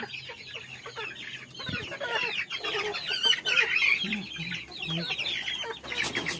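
A noisy crowd of chickens on a farm in the Philippines clucks and squawks loudly and constantly at dusk, close by, with rustling and a few brief knocks among the calls.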